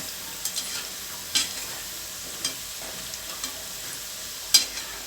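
Bitter gourd pakoda fries in hot oil with a faint, soft bubbling hiss, broken by a few sharp clicks and taps spread across the moment; no voices.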